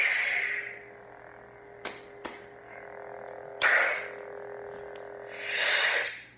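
A toy lightsaber hums steadily with swooshing swells, with sharp button clicks, and near the end its blade powers down with a fading electronic whoosh.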